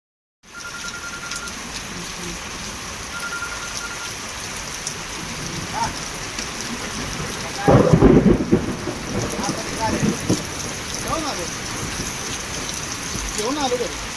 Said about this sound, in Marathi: आदर्की परिसरात वादळी वाऱ्यासह गारांचा मोठा पाऊस पडला.